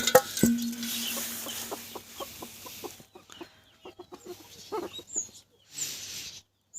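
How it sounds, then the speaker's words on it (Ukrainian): Older chickens, including black-legged Australorps, clucking in a farmyard enclosure, a series of close, rhythmic clucks and short calls with quiet pauses between bursts. "Знаходжуся біля курчат старшеньких"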